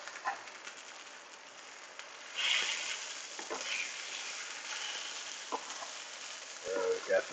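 Hash browns frying in a pan as part of a breakfast with bacon and pancakes, a steady crackling sizzle with a few louder bursts of spatter and scraping.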